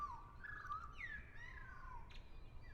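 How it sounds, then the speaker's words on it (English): Bird calls from the video game Deltarune: a few faint, thin chirps and sliding tweets over a quiet, low background hum, with no speech. "I like bird noises."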